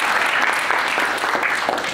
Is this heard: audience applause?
yes